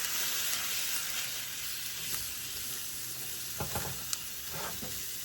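Flour is stirred into garlic in a pan, giving a quiet steady sizzle with soft scraping strokes near the end.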